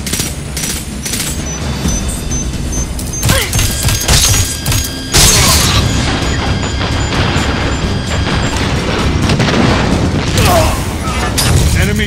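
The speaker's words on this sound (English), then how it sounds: "Enemy charge detonated." A detonated enemy charge explodes in Destiny 2 on the Leviathan prison barge: heavy booms and crashes amid rapid gunfire, loud and dense, with a burst of blast noise midway.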